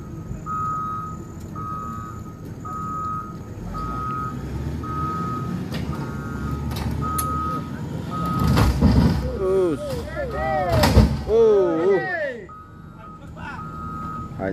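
Coal truck being recovered, its reversing alarm beeping in an even repeated rhythm while engines rumble, squeaky mechanical sounds rise and voices talk over it.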